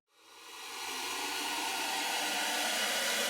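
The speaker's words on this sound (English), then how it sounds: "The only other thing is a riser from Jaeger" A riser effect from Audio Imperia's Jaeger library swells from silence into a broad, airy noise wash that grows steadily louder and brighter, sustained and unaccompanied.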